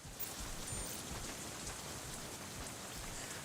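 Steady, dense rain falls throughout in Crysis 3 Remastered, a continuous hiss of drops at even loudness with no voices.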